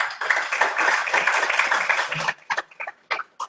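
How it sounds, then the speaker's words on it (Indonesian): A crowd claps together in a dense burst of applause that stops suddenly, leaving a few scattered claps that trail off. "Beri tepuk tangan untuk."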